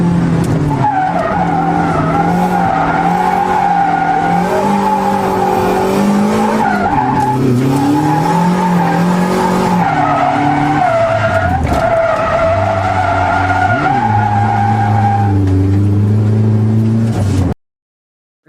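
A drift car loudly revs and shifts down, its engine pitch rising and falling while the tires skid and squeal almost continuously for about 17 seconds before it cuts off.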